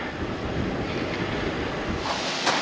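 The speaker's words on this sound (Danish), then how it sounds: "Det blæser kraftigt i dag" Strong wind buffets the microphone outdoors on a hilltop overlooking a town and the Mediterranean coast in Spain in winter, a loud, continuous roaring rush that never lets up.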